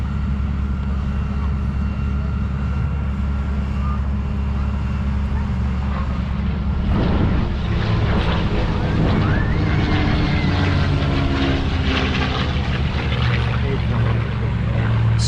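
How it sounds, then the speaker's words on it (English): A North American P-51D Mustang flies past at an air show, a loud, continuous propeller engine drone that swells as it crosses from right to left with faint crowd background. "Listen now as this P-51D model comes from your right to your left."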